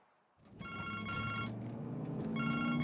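A telephone rings in a Hindi-dubbed film scene, its electronic ringing repeated in two bursts over a low background hum, moderately loud with no speech.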